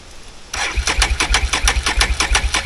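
A 2023 Can-Am 1000 XMR ATV engine cranks over in a steady, rapid rhythm of about a dozen loud, close strokes without catching, starting abruptly after a brief quiet moment.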